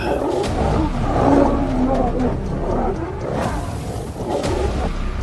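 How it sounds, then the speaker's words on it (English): Lions roar on the African savannah, deep, rumbling calls rising and fading over several seconds beneath a speaking voice. "The earth trembles under the mighty footsteps of the savannah lords, their roars tearing the air, stirring up red dust."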